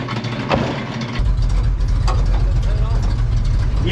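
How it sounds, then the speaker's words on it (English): A fire-burnt Mercury Comet GT engine cranks and runs in gear with a heavy, steady low rumble that rises in loudness partway through, with people talking nearby. "We might try to crank it in gear and see if we can slam on the brakes."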